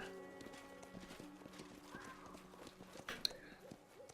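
A fire horse in the video game Pathfinder: Kingmaker, with rhythmic hoof clip-clops and a brief whinny, faint and under light game ambience.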